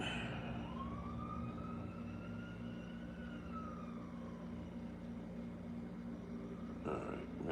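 A siren wails in the distance, rising and falling over steady traffic rumble and background hum.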